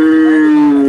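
Cow at the Sangola cattle market, one loud, close, sustained moo lasting about a second.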